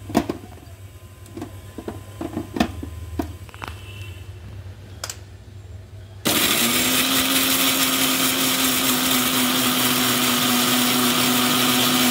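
A blender starts up loud and steady, grinding a paste of poppy seed, mustard and green chilli with a little water, its whine running continuously for several seconds after a stretch of quieter kitchen clatter.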